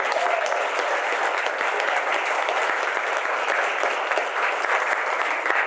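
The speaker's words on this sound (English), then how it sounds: "I think they deserve a round of applause for this" An audience at a business-on-stage event at the University of Wisconsin-Superior breaks into sustained applause, a dense, steady roar of many hands clapping for several seconds without pause, with no talking over it.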